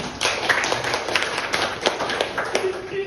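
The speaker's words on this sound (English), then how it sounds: "give applause to your friend" A classroom of students claps for a classmate during a micro teaching lesson, a dense patter of hand claps lasting the whole moment with voices mixed in underneath.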